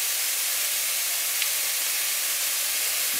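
Ground beef sautés in a pan for pasta gravy, giving a steady, dense, close sizzling hiss throughout with no talking.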